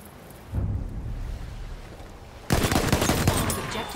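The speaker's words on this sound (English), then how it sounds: "Это пулемет, вон там!" Machine gun fire in Battlefield 1 on a noisy battlefield, a short low burst early on, then a louder, denser run of rapid automatic shots that lasts to the end over a steady rumbling background.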